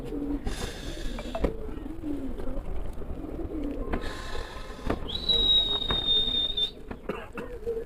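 Soft pigeon cooing with a flutter of movement as four pigeons take off and a sharp whistle, outdoors at a pigeon-flying tournament, with background noise and no speech.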